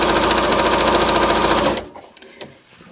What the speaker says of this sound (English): you just want to stitch the binding to the quilt all the way around.